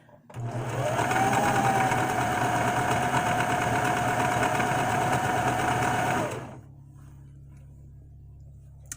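Sewing machine running slowly, a steady close whirring motor buzz with a rapid mechanical chatter that starts, holds for about six seconds and stops, leaving quiet background.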